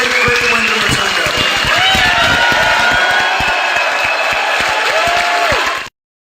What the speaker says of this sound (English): very cool crowd reaction there